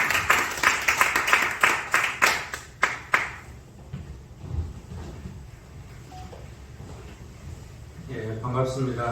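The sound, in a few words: applause welcoming a lecturer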